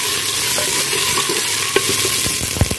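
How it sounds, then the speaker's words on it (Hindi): Tomatoes being stirred into browned onions frying in a pan: a steady close sizzle with scraping stirs and occasional clinks of the spoon against the pan, no speech. "ये कर दें जी टमाटर ऐड, और इन्हें मिक्स कर लेने"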